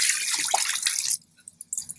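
Water poured from a big cup into an overflowing large bowl, a dense splashing pour that stops abruptly, followed by a few scattered drips and small trickles, close and clear with no talk.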